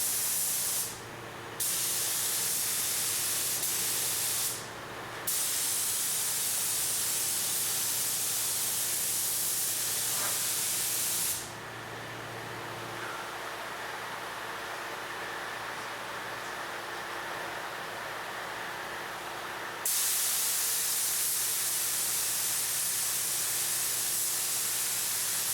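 A spray gun hisses steadily as it lays EkoFill coating over an aircraft wing, with broadband spray bursts that stop briefly near the start and then run long and loud, close by.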